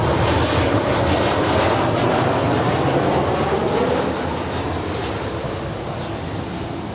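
A Finnair heavy jet on its takeoff roll at LAX gives off a loud, steady broadband engine roar. The roar holds strong throughout, easing slightly toward the end as the aircraft pulls away.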